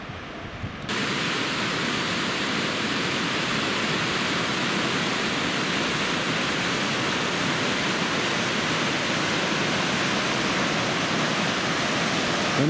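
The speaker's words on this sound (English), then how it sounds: "Looks like we've got a real nice waterfall coming up too." A waterfall along the Dumbbell Lakes Loop roars in a steady, loud, broadband rush that starts abruptly and continues without pause, with no voices.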